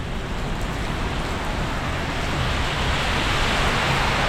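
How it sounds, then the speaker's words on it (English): Heavy rain pours onto a street on Guimaraes Avenue in Taipa, Macau, a loud, continuous, dense hiss of water with no voices over it. "as you can see, the rain is too much."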